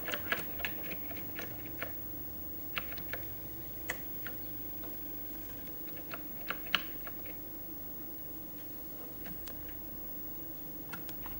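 Irregular clicking keystrokes on a Spectravideo retro computer keyboard with some sticky keys, faint and close, scattered taps with pauses over a low steady hum.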